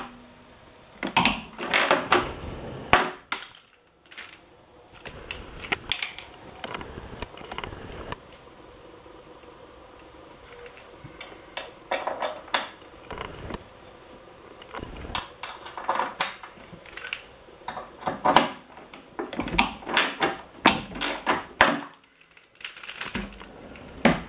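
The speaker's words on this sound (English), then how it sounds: "so I'm going to use the bigger rivet gun to save my hands." Large pneumatic rivet gun setting rivets during installation of an upper rear A-arm and suspension module brace kit on a car, heard as repeated sharp bursts of clattering clicks with pauses between them.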